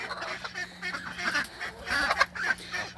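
Geese and a bunch of ducks shut in a coop, honking and quacking in overlapping bursts at close range, fairly faint and without talk.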